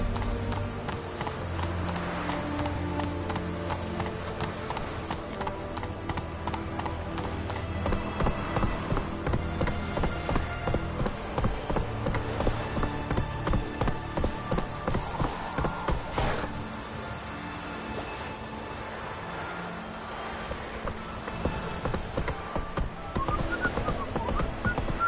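Roach the horse gallops in The Witcher 3, with rhythmic clip-clop hoofbeats pounding steadily and continuously over a busy game soundscape, with no speech.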